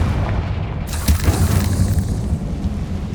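A Confringo blasting spell detonating in Hogwarts Legacy, a deep booming explosion with a sharp onset about a second in, then a rumbling tail that lingers without talk.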